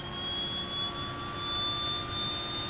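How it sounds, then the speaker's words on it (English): The right engine of a DHC-6-300 Twin Otter spins up in the FSX flight simulator, a steady turbine whine with sustained high tones over a broad rushing roar, heard alone. "Start up the right engine."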